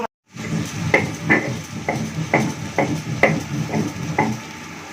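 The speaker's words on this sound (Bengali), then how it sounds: "মশলাটা ভালোভাবে কষানো হয়ে গেছে" Ginger-cumin spice paste sautéing in a pan with cauliflower cooking nearby, a steady close sizzle broken by regular scraping or stirring strokes about every half second.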